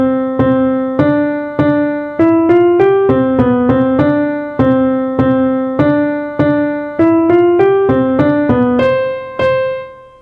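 A single melodic instrument plays a clear, close passage in dotted rhythm, with plucked notes stepping through a short tune of long-short note pairs before a final sustained note fades away.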